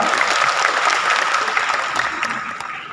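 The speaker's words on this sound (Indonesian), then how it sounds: "Tepuk tangan untuk Mas Dino Jalal yang luar biasa" A large crowd at a public talk in Bogor claps continuously for the speaker, a thick, even roar of many hands throughout that tapers slightly at the end.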